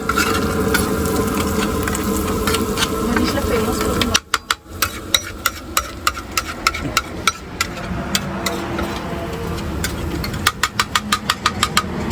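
A tempering of ginger, cumin and chilli powder sizzles and crackles in oil in a pan while a metal spatula clanks repeatedly in quick bursts, over a droning engine-like hum.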